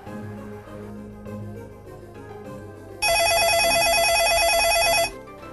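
A telephone ring tone sounds for about two seconds on a call routed through a 2-channel VoIP gateway to an IP phone, loud and clear after a stretch of quieter line noise.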